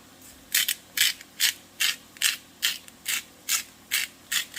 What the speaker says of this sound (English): And I'm going to grind that in there a couple of times.